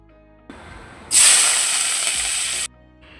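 Hot oil in a wok gives a sudden loud hiss that holds steady for about a second and a half, then cuts off; no one speaks.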